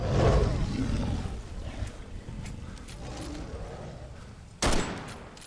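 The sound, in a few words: flare gun firing in the video game Bigfoot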